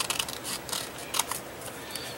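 Scissors snip through paper in several quick, crisp cuts at close range, with brief pauses between the strokes.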